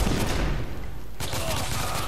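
Dense bursts of gunfire in The Order: 1886 on PS4, rapid shots crowding together into a loud, continuous fusillade that briefly dips before surging back.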